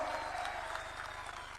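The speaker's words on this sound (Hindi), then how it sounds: "सबसे पहले मोदी जी के लिए ताली बजाइए" A crowd at a political rally in Jammu claps in sustained applause, a dense patter of many hands heard from a distance, fairly faint and fading slightly toward the end.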